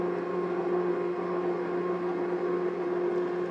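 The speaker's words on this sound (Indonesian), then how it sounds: "Lalu kita matikan mixernya sebentar." An electric mixer kneads thousand-layer mooncake dough, producing a steady, even motor hum with a constant whirring drone throughout and no pauses.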